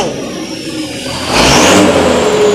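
An Isuzu turbo diesel pickup with a Holset HX50 turbo revs hard a few times, a deep mechanical roar rising and holding, loud and close with no voices over it.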